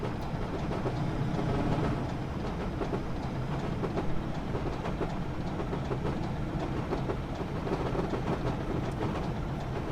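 A BR Class 25 diesel train runs over jointed track, giving a steady, loud, continuous rumble with repeated clickety-clack beats from the rail joints throughout, with no voices.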